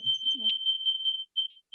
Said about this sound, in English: gonna put a timer on for the meatballs